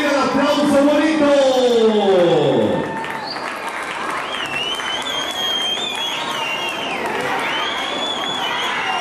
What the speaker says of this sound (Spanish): Vamos a darle la bienvenida, el aplauso bonito.